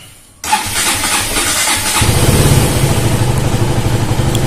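After a brief quiet moment, a BS6 motorcycle engine cranks and fires up, then settles into a loud, steady idle close by.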